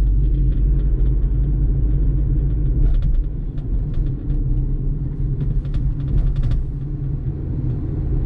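Hyundai Accent car engine accelerating in third gear while struggling, with a steady, heavy low rumble and drone throughout and faint clicks and rattles over it.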